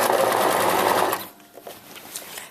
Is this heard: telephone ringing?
no